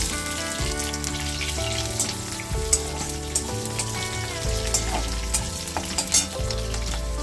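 Chopped onion frying in oil spiced with curry leaves gives a continuous sizzle with occasional pops, partly masked by background music.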